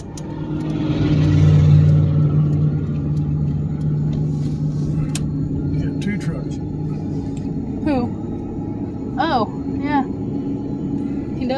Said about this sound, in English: Didn't sound like his truck was running that good either.